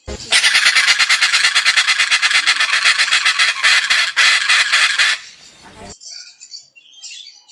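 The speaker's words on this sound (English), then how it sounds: "The ultra-rare Dracula Parrot looks like a vampire and screams to communicate." A Pesquet's parrot, the Dracula parrot of Papua New Guinea jungles, giving a loud, harsh, rapidly pulsing scream for about five seconds, close and dominant, followed by quieter scattered calls.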